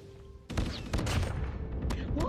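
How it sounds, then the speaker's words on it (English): Rapid video game gunfire rings out in a dense burst of overlapping shots after a brief quieter lead-in, loud and close, with a player's voice talking over it. "Where the fuck am I getting shot from?"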